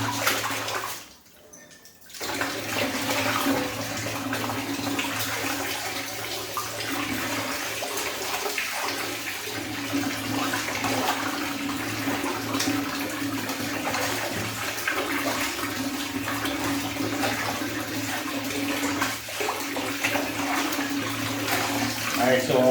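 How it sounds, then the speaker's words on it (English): A processed broiler chicken is rinsed in wash water, a continuous close gushing and splashing that runs almost the whole time after a short quiet pause at the start. "then we go to the wash water and rinse this off"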